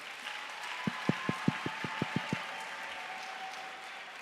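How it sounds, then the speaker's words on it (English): Small group of first-year students clapping for themselves, around ten distinct sharp claps at a steady rhythm, faint and somewhat distant against quiet room noise. "Can everyone clap hands for themselves once more?"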